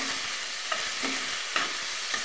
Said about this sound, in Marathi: टोमॅटो 2 मिनिटं असा परतून घ्यायचा